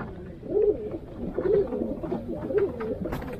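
Old-line Indian breed pigeons in a loft coo in soft, throaty, rolling phrases that repeat about once a second, close by and unaccompanied by speech.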